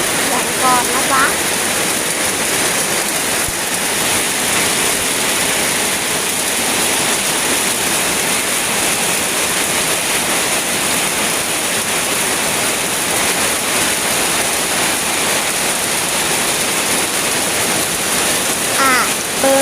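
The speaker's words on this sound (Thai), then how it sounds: "อยู่ดีๆฝนมันก็ตกลงมาแล้วให้ฟังเสียงก่อนนะจ๊ะ" Sudden rain falling, a loud, dense and continuous hiss of heavy rainfall close by, steady throughout with no breaks.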